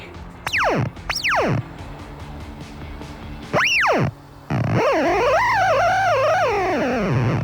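Loud electronic alarm from a leak test machine, made of swooping tones: two quick rising-falling sweeps, a pause, another sweep, then a long warbling wail over steady machine hum.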